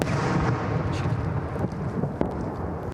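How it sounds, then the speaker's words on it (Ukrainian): Outgoing artillery fires from outside a town, heard as a deep, rolling, thunder-like rumble that fills the whole stretch with a crackling roar and fades sharply at the end. "Це звуки виходів. Працюють наші артилеристи за містом."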